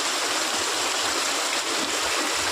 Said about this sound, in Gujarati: વરસાદ આવતો હોય જો કેટલું પાણી આવે છે.